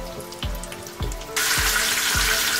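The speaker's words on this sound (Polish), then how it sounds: "u mnie smażę tak klasycznie z jednej, później z drugiej strony" A pork cutlet sizzles in a frying pan, steady close frying crackle with a few soft thumps, growing noticeably louder and brighter partway through.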